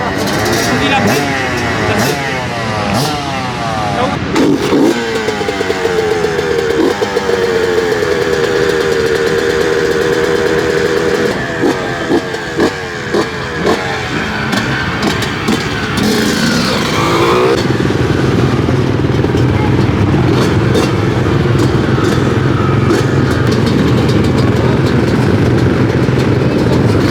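A motocross motorcycle engine revs loudly and close by at a training session, repeatedly rising and falling in pitch, then settling into a rougher, lower idle for the final stretch.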